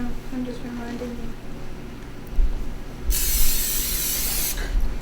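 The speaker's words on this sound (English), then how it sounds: "We are gonna have to lightly spray the pan with cooking spray." Cooking spray hisses onto a meatloaf pan in a home kitchen, a loud steady burst lasting about a second and a half, preceded by nearby talking and clatter.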